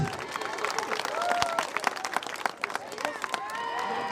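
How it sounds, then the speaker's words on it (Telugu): Crowd clapping at a village Sankranti festival celebration, scattered, uneven applause under a loud voice talking over a microphone, with bursts of cheering. "ఎక్సలెంట్ చప్పట్లు ఫుల్ ఎంకరేజ్"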